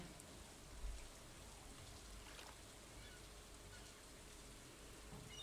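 Steady rain falling in the farming game Stardew Valley, a soft continuous hiss of drops on the ground with a faint low thud early on, quiet and unbroken throughout.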